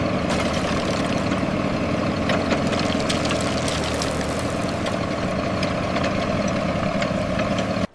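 A miniature construction crane's small engine idles steadily at a waterwheel build site, a continuous mid-pitched drone with faint clicks and rattles, loud and close, running alone without talk until it cuts off abruptly at the end.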